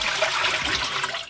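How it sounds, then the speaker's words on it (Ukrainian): Water pours steadily out of a container as the soaking water is drained off pork, chicken and veal being prepared for homemade basturma, a continuous splashing gush that fades slightly at the end. "Тепер я всю воду зливаю."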